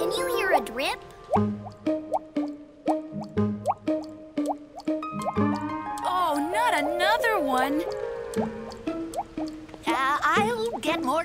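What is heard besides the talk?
water dripping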